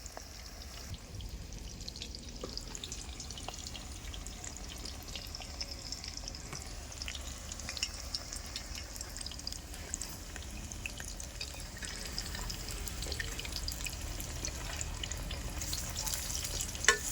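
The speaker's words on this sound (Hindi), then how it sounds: "आपको इस तरीके से तेल में फ्राई करने हैं" Bottle gourd pieces frying in hot oil give a faint, steady bubbling sizzle with scattered small drips and pops, continuous and fairly quiet throughout.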